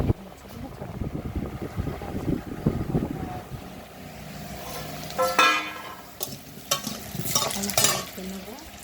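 Potato pieces fry in oil in a pan for a home-style meat curry. A spatula scrapes and stirs through the first half, then louder bursts of sizzling flare up at irregular moments.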